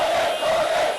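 Large crowd of thousands of protesters in Myanmar's capital, a steady dense roar of many voices with a sustained tonal chant or cry running through it, loud and continuous without pause.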